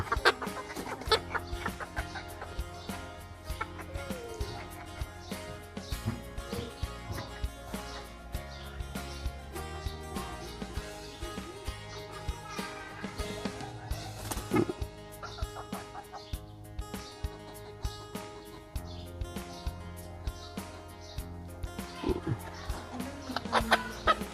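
A flock of chickens clucks continuously on a farm, with dense overlapping hen calls and the odd crow from a rooster, fairly close and steady throughout.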